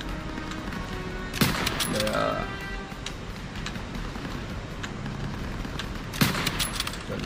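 Gunfire in Call of Duty: WWII during a church escape level, with loud bursts of shots near the start and end over a steady rumble of battle, while a player talks over it.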